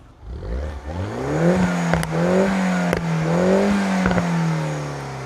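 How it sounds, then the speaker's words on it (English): A Mini Cooper S engine with stock exhaust revs up repeatedly, rising and falling in pitch in several pulses, loud and close with a steady idle rumble between. "Carl, give her a few revs."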